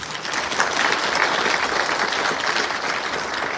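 A crowd at a launch ceremony held in a National Assembly hall applauds with dense, sustained clapping at an even, fairly loud level throughout.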